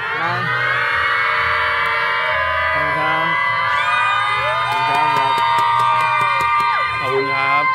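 Fans at a live winter camping fan event scream and cheer loudly together in a sustained, high-pitched roar, with whoops and shrill voices rising over a steady crowd noise and occasional sharp claps near the end.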